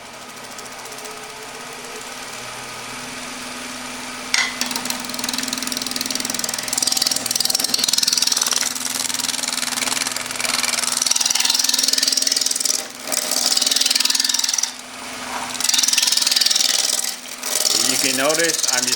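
A spindle roughing gouge takes slow cuts from a spinning wood blank on a lathe, giving a continuous rasping, scraping noise over the motor's hum, with brief breaks as the tool lifts off the wood.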